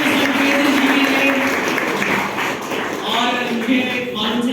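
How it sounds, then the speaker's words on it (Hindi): Dense, steady applause from an audience at an indoor motivational event, loud and continuous throughout, with a few brief voices faintly mixed into the clapping. "तो जोरदार ताली दीजिए Mr. भूपेंद्र जी के लिए।"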